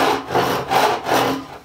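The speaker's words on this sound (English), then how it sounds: "This is a Diston D8 thumb hole rip saw." A Disston D8 thumb hole rip saw cutting wood in slow, even strokes, four rasping push-and-pull passes heard close and loud with no talking.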